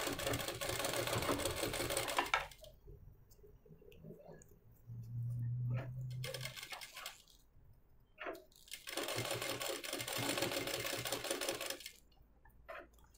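A sewing machine stitches the piping edge of a blouse in a sustained mechanical whir, running in two long stretches separated by a quieter pause with faint handling noise.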